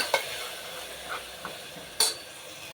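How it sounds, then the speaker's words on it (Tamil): Ginger garlic paste sautéed in a pan gives a soft steady sizzle, broken by a few light scrapes and clinks of a spoon stirring against the metal, close and quiet. "இஞ்சி பூண்டு பேஸ்ட்டு சேர்த்துக்கலாம் ஃப்ரெண்ட்ஸ். நல்லா வதக்கி விட்டுக்கலாம் ஃப்ரெண்ட்ஸ்."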